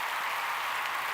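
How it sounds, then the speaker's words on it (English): Applause for guests on a podcast episode, a steady broadband patter of clapping held at a faint, even level for about a second. "So I want to give a round of applause to my guests who came through for this episode."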